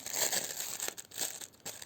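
A package being opened: plastic wrapping crinkles and crackles up close, with a few sharper rustles and brief tearing bursts, fairly quiet, with no talking.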